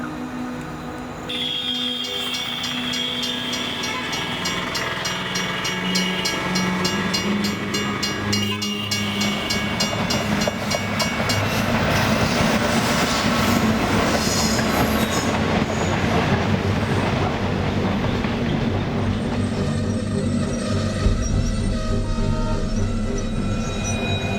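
A train rolls past close to a railway station, a loud steady rumble of wheels and carriages with clattering and squealing, lasting throughout with no voices.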